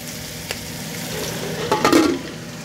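Smothered potatoes fry in a pan for breakfast, a steady low sizzle running throughout with a brief stir near the start and a louder burst of spattering frying toward the end, no voices.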